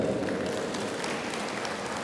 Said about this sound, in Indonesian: Tepuk tangan dulu buat PPIJ.